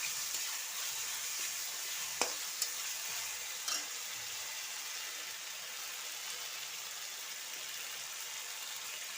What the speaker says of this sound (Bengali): পেঁয়াজ, লঙ্কা, রসুন আর আদা, এইগুলো সব প্রথমে আমি একসঙ্গে মশলাটা কষিয়ে নেব